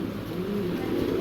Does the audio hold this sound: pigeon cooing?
yes